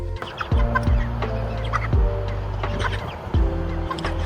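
Chickens in a chicken tractor cluck close by in repeated bursts, with a low mechanical hum running underneath throughout.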